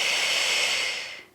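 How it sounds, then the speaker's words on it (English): A person breathes out slowly during a Pilates reformer exercise, one long close airy exhale that trails away at the end. "breathe in and out"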